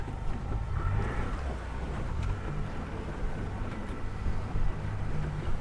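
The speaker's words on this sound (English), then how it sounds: "Start the motor," Outboard motor on a Quintrex Busta 420 aluminium boat driving out in gear on open water, a steady low engine drone mixed with wind buffeting and water wash, moderately close, no talk.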